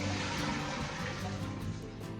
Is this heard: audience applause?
no